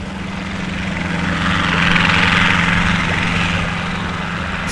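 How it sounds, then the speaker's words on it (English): A helicopter sound effect in Krotos Studio Pro: a continuous rotor and engine drone with a low steady hum, swelling louder toward the middle and easing slightly toward the end. "Helicopter."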